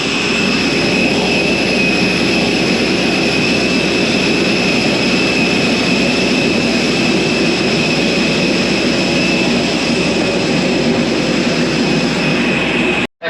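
Airbus jet airliner engines running steadily at Palma airport, a loud continuous roar and whine with a high tonal hum that holds without break for the whole stretch, no talk over it.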